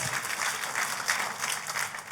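A church congregation applauds during a sermon, a steady wash of clapping from many hands that fills the room evenly from start to finish, fairly loud and with no talking over it.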